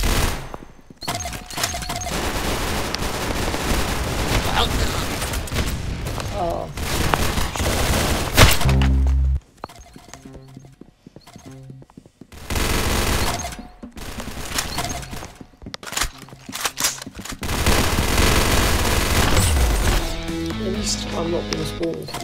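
Loud, dense bursts of video game gunfire rattle out over a talking voice, cutting off abruptly around the middle before the heavy shooting resumes.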